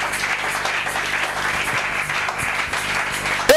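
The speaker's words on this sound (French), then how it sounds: "Nous acclamons très fort." Church congregation applauding loudly, a dense, sustained wash of clapping that holds for several seconds at close range.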